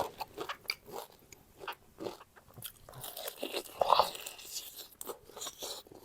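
Close-up crunching and chewing of crispy pork belly in a spicy Thai cucumber salad, with irregular crisp bites and wet mastication sounds repeating steadily and near.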